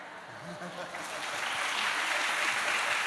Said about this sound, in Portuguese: Para essa fala não deveria ter aplausos.